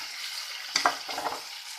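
Tomatoes with ginger-garlic paste fry in a pan for homemade pizza sauce, giving a soft, steady sizzle with a couple of brief stirring scrapes, close and fairly quiet, with no voices.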